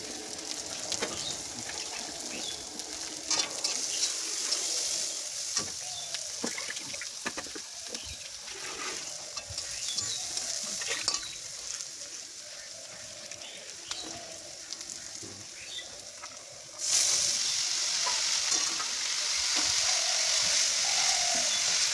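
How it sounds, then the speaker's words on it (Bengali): Red amaranth greens tossed with chopped onion and garlic sizzle steadily in hot oil, with occasional stirring scrapes; the hiss grows noticeably louder and brighter toward the end. "লাল শাক আগের দিনের যে পেঁয়াজ কাটা ছিল, রসুন ছিল কাটা, সেটা দিয়ে আমি আবার লাল শাকটা ভেজে দিচ্ছি।"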